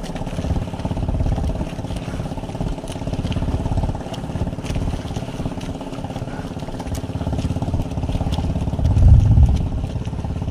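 A motorcycle engine runs unevenly during roadside repairs after a breakdown, a close, rough mechanical drone with a brief louder burst near the end and no speech.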